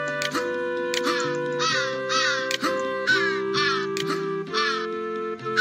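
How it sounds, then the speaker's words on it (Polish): Ravens in the video game Santa Claus in Trouble give repeated harsh, pitched cawing calls, a rhythmic series of loud croaks over a sustained tonal game-music backdrop. "Już słychać kruki."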